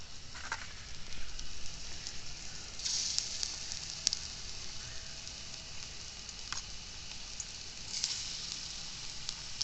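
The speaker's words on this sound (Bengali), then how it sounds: "আমাদের তেল গরম হয়ে গেছে, আমরা এক এক করে পেঁয়াজি ছেড়ে দেবো। ওই দেখো ফটফট করে ফুটছে।" Onion fritters (piyaji) dropped into hot oil crackle and sizzle steadily throughout, close by, with sharp pops now and then and no talk.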